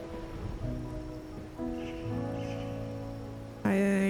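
Rain falls in the video game Wuthering Waves as a steady soft hiss beneath sustained game music tones, with the music swelling louder near the end.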